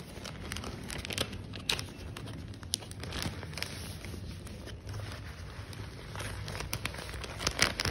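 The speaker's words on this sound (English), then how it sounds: "I'm gonna place it inside the plastic bag with the rest" Dried parsley is dropped into a plastic bag holding more parsley, giving steady close crinkling and rustling of thin plastic with small crackles throughout, and no talking.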